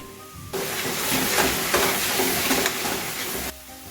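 Diced plum tomatoes and broccoli rabe hit a hot pan and burst into a loud, dense sizzle that holds steady for about three seconds before cutting back to a quieter background hiss.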